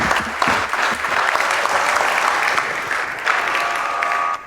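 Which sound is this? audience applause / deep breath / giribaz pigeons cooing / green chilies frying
audience applause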